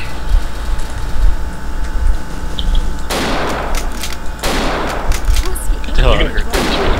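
Repeated loud trench gun blasts in a dinosaur-themed shooter game, several heavy booming shots spaced a second or so apart over steady in-game noise, with voices talking throughout.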